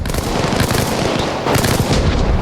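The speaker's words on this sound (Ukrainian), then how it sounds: "біля вишки багато ворогів кидають гранати" Dense, loud gunfire and grenade blasts in the video game Arma Reforger, a continuous barrage of rapid shots and booms with no pauses.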